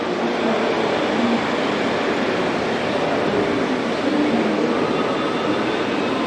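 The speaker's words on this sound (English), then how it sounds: "Pretty interesting. Model trains." Model trains run along a museum display track, giving off a loud, continuous whirring rumble that holds steady from start to finish with no pauses.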